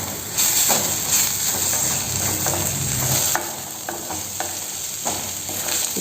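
Onions being sautéed with ginger garlic paste for an egg gravy hiss and sizzle steadily in the pan, with repeated spatula strokes scraping and stirring at close range.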